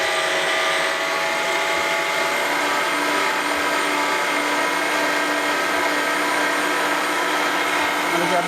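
An electric keema machine mincing meat runs with a loud, steady whirring drone that holds unbroken from start to finish.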